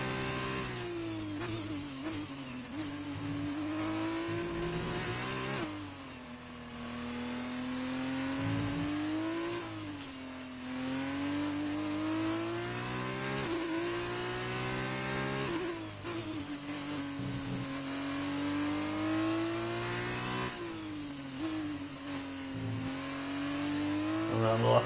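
A Formula 1 car's engine screams through repeated high revving climbs and dips as it brakes and accelerates through the final corners in the F1 2019 video game, loud and continuous, with someone talking over it at times.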